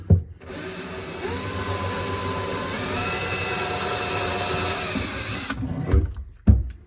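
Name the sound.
power drill drilling through cabinet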